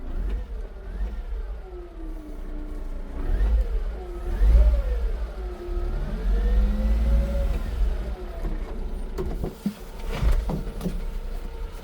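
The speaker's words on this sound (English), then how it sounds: "Let's lift the bed up." Daihatsu Hijet dump truck engine running in neutral with the gear engaged to raise the bed, a loud close idle that rises and falls in pitch as the hydraulic lift works, with brief revving surges.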